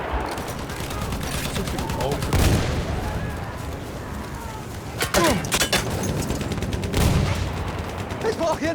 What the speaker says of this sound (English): Da! Feindliches Maschinengewehr!